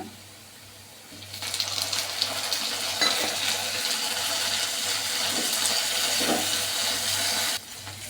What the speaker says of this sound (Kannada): ಇದು ಈರುಳ್ಳಿ ಬೆಂದಿದೆ. ಈಗ ಟೊಮೆಟೊ ಹಾಕ್ಕೊಳ್ಳೋಣ.